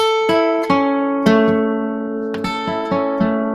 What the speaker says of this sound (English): if you were to play those notes individually, it would sound like this.